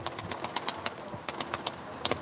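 Faint, soft cooing of pigeons at a live pigeon auction in Ankara, mixed with light taps and rustles, with no voices present.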